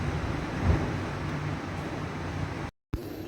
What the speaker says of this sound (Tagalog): O ngayon hangin. Ang lakas.